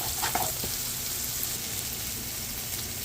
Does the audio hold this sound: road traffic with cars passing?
no